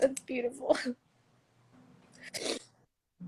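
A person speaks briefly, then after a pause a single quick, breathy sneeze bursts out close by.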